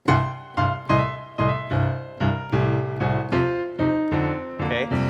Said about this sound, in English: when you're first learning the blues, there's a very good chance that you were taught the blues shuffle